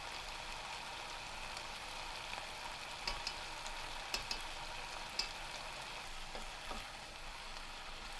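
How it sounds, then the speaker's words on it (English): Tomato puree sizzles steadily in a hot pot, a constant close frying hiss with a few faint taps from a utensil and no talk. "Now I'm going to add around 70 grams of tomato puree."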